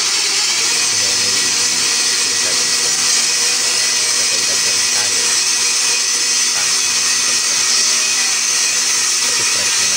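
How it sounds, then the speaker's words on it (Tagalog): A blender whirs steadily through fresh pineapple for juice, a loud continuous motor drone with churning liquid that holds even and close for the full stretch, with no talk over it. "Tapos na siya i-blender."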